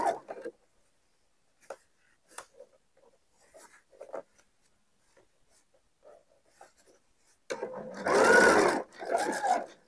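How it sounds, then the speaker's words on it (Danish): Sewing machine stitching the shoulder seam of a lined vest, a loud sustained whir of rapid needle strokes in two bursts near the end, after quiet handling noises and soft talk. "Så sådan får jeg skuldersømmen syet sammen"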